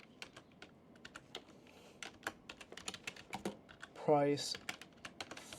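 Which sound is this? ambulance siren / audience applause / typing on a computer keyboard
typing on a computer keyboard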